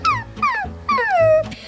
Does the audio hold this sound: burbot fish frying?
no